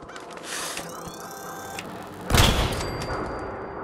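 Gunfire in Fallout 4 during a Survival Mode raid on Corvega, a sharp loud burst midway over mechanical clicking and ratcheting, with no voices.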